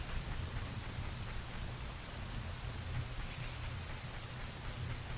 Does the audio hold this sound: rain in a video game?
yes